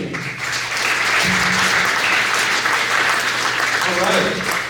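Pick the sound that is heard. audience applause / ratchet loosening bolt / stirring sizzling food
audience applause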